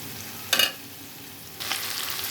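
Fish head and belly pieces fry in oil with a steady low sizzle, broken by a brief sharp crackling burst and then a louder, sustained hiss.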